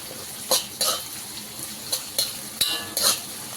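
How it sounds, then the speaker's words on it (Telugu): Finely chopped onion frying lightly in a pan over medium-low flame, with a steady sizzle broken by several sharp scraping stir strokes; no talking. "ఇదంతా ఫ్రై చేసుకోవాలి. ఉల్లిపాయ కూడా లైట్గా ఫ్రై అవ్వాలి"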